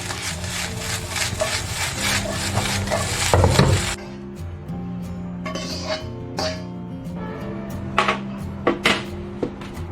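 A spatula stirring and scraping seaweed fried rice with scallions in a pan, giving repeated scrapes, clinks and rubbing strokes, busy at first and then sparser.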